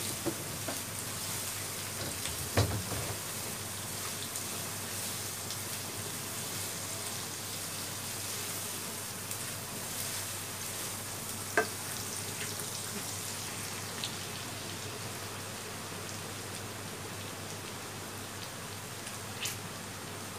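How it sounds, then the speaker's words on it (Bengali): Chopped ginger, chili and garlic are stir-fried for restaurant-style chicken fried rice, a soft, steady hiss of frying that continues throughout, with a few faint clicks and taps from stirring. "আদা মরিচ, রসুন কুচি, আদা কুচি দিয়ে দিব, আবার নাড়তে থাকবো"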